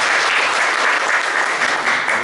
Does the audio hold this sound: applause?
yes